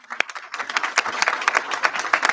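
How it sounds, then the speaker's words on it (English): Audience at a press announcement breaking into applause, a brief burst of many hands clapping, rising quickly and staying brisk and fairly close. "Yes, you can give them a round of applause."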